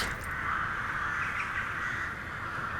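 Many crows caw steadily in a video game, a dense overlapping chorus that fills the whole stretch at moderate loudness with no speech.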